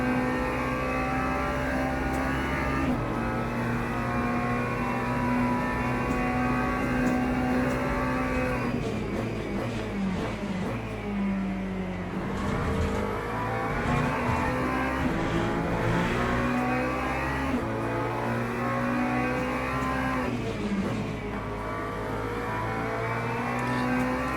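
LMGT3 race cars lap Monza in the Le Mans Ultimate racing game, with a continuous engine note rising and falling through gear changes under heavy drafting, loud and unbroken, without talk.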